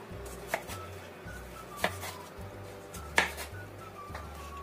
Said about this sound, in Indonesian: Kita iris kotak-kotak kayak gitu ya,